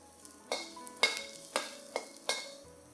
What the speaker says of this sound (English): add in your garlic and dried chilies. Fry all this till they are fragrant.